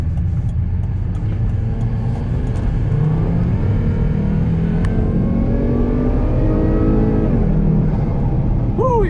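A Volvo S60R accelerates hard on the road, its engine pulling through rising, shifting tones over a steady rumble of road noise for the whole stretch.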